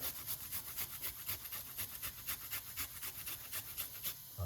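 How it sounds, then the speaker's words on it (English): A small piece of fresh ginger grated by hand, a quick rhythmic series of rasping scrapes, close and moderately loud, repeating steadily with no talk. "let's grate a little piece of a ginger, roughly about a teaspoon of ginger"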